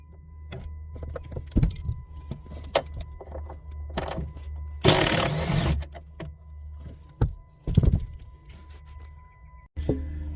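Bolts are worked loose from the convertible top brackets of a Chrysler Sebring, scattered metallic clicks, ratcheting and clunks with a burst of rattling handling midway, close up and without speech.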